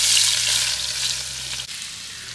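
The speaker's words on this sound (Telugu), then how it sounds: "ముందుగా ఆయిల్ వేసుకుందాం. కట్ చేసి పెట్టుకున్న ఉల్లిపాయలు వేసుకుందాం." Chopped onions dropped into hot oil outdoors for a prawn curry: a loud, bright, hissing sizzle that surges at first, with a low hum underneath that cuts off partway, then the frying settles into a steady hiss.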